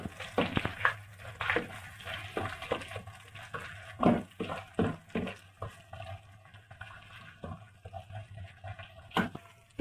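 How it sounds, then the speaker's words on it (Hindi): Onions sizzling and frying in hot ghee over a lowered flame, with steady crackle and intermittent stirring scrapes, close and moderately loud, no talk. "अब हम इसी घी में प्याज डालेंगे,"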